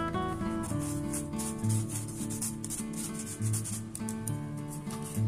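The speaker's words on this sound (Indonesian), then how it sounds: "Kemudian kita masukkan 60 gram gula halus. Kita ayak dahulu ya" Powdered sugar being pushed through a sieve for Afghan cookie dough, a soft, continuous scratchy rubbing close by with faint rhythmic swells, heard without talk.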